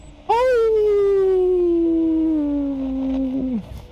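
A person imitates a dog howling with one long, loud, sustained vocal howl that starts with a rise, then slowly falls and trails off after about three seconds.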